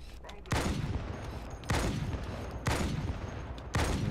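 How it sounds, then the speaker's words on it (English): Four booming sniper rifle shots in Halo 2 on Legendary difficulty, evenly spaced about a second apart, each loud with a lingering echoing tail over game ambience. "4 sniper shots to this cranium skull"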